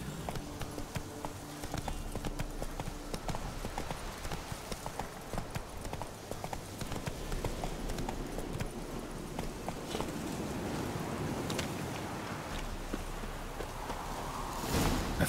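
Roach the horse walks in The Witcher 3, hooves clip-clopping in a steady rhythm throughout, fairly close, with ambient game sound underneath and no talk.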